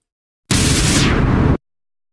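A sound-effect explosion added in video editing, heard as a single loud, harsh burst of about a second that cuts in abruptly and stops just as sharply, with silence on either side.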